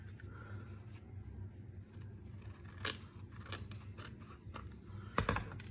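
Scissors trimming a paper insert for a double pocket folder, a few sharp snipping cuts over a steady low hum, with one quick cluster of snips near the end.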